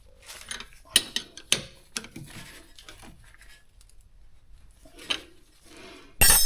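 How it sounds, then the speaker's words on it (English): A wrench tightens the rear brake caliper bolts on a Toyota Sienna, giving a string of sharp metallic clicks and ratcheting taps close by, then a louder clattering burst at the end. "All right, let's get these torqued."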